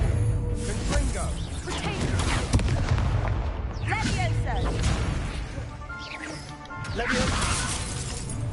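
Confringo fire spell blasts in the Hogwarts Legacy video game: a dense run of explosive booms, crashes and shattering bursts, loud and continuous across the whole stretch.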